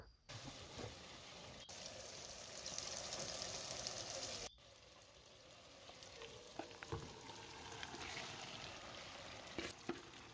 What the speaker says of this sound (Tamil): ஒரு 3 மினிட்ஸ்க்கு இதை நல்லா வதக்கி எடுங்க